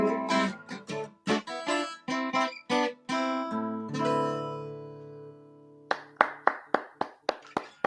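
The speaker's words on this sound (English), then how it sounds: "I'm applauding" A single person claps about seven times, sharp and close, at an even pace, right after a stretch of plucked and sung music dies away.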